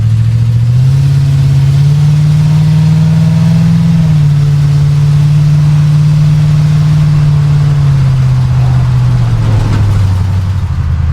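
A truck engine rumbles steadily and loudly throughout while driving, with a deep exhaust drone that rises slightly, holds, then eases off, with no talking.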